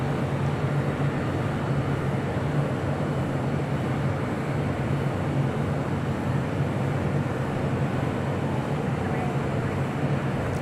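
A Delta Boeing 767 jet departs LAX with a continuous, even rumble and roar of engines sustained for the whole stretch, fairly loud and unchanging, with no clear talk over it.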